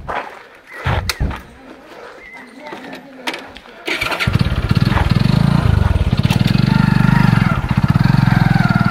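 A motorbike engine fires up around four seconds in and settles into a loud, steady idle, following scattered voices and bumps, near Sirsi Dam in Mirzapur.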